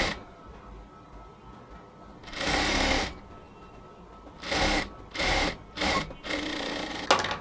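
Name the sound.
sewing machine stitching a blouse strip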